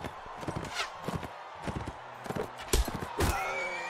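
Horse hooves pounding in a Mount & Blade: Warband jousting tournament: a run of close, sharp clip-clop strikes, with heavier thuds near the end and busy game noise around them.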